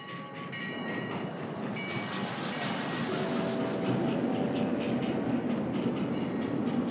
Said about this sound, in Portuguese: com o visto assinado por Sousa Mendes na mão, a multidão em fuga tem 48 horas para atravessar a Espanha de comboio até entrar em território português